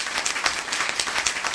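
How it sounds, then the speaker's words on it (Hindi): Crowd applause for winners at a cookout competition grand finale in Delhi, steady dense clapping throughout a brief stretch. "जोरदार तालियां हो जाए."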